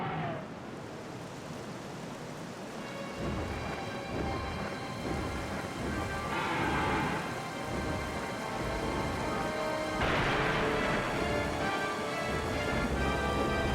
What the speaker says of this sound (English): Now he means business. He summoned lightning.